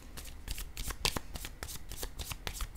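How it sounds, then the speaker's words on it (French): A deck of cards, used for a tarot-style reading, is shuffled close by in a run of quick papery riffles and slaps that keep going without pause. No one speaks. "je vais prendre mon jeu de cartes"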